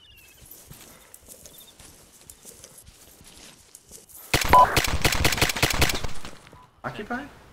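Machine gun nest in a video game firing a sustained, loud burst of rapid automatic fire that cuts off after a couple of seconds, with quieter game ambience and brief talk around it.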